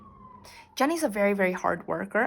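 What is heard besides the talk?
siren passing outside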